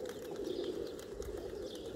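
A large flock of about 700 pigeons coos and calls close by in a dense, low, continuous murmur with light chirps and rustling mixed in.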